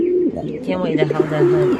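Pigeons coo in a steady, close sequence of low, rounded calls that fill the whole stretch, with a few soft chirps mixed in and no other sound competing.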